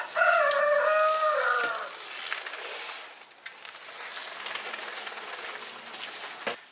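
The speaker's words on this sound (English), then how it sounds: "And the rooster says hi." A rooster crows once, loud and close, then the scene fades to quiet outdoor background with faint scattered noises.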